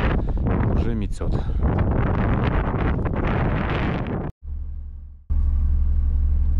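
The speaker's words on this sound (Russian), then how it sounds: "Резко погода испортилась. Просто резко. Ветер налетел." Strong wind and blowing snow during a sudden turn in the weather near a vehicle at about one degree: a loud roaring rush buffets the microphone, drops out briefly, then returns as a steady low rumble.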